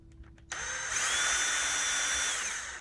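A small power drill whirs in a short steady burst, spinning up quickly and running high-pitched for a couple of seconds before winding down as it drills a small hole in a rubber RC car tire.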